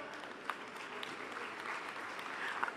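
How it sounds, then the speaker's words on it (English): Audience applause at a convocation ceremony, steady continuous clapping from a crowd for the full stretch, moderately loud with no pauses. "Please keep the applause going."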